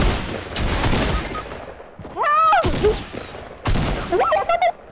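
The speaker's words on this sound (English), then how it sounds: "I literally thought that was you shooting!" Gunfire in Fortnite, several rapid bursts of close, loud shots with ringing tonal game effects between them, while players shout over the action.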